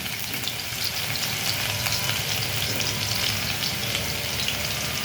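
About ten to fifteen garlic cloves fry in a large spoonful of oil, giving a steady, close sizzle with fine crackling that continues evenly throughout.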